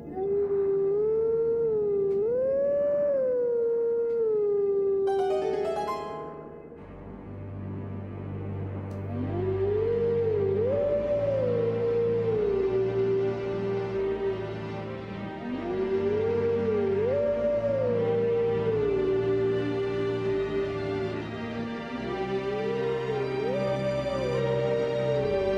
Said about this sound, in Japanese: さあ、吠えちゃいましょう。